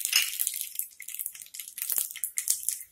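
Mustard seeds hitting hot oil in a wok crackle and spatter in a dense run of sharp, bright pops and crisp sizzles, close and fairly loud, with no voices.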